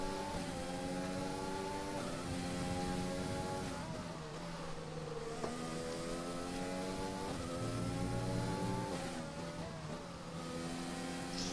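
Several race cars lap a track in Austria in a video game, their engines droning continuously with rising and falling pitch as they shift gears, steady and fairly loud with no talking.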